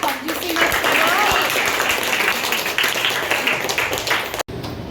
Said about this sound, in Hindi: एक ताली बजाओ इसके लिए